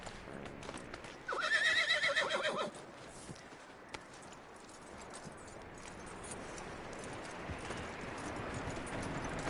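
A horse whinnies loudly for about a second and a half, followed by soft hoof clops and rustling against a low outdoor background, in the video game Red Dead Redemption 2.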